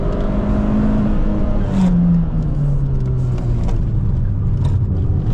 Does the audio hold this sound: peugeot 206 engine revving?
yes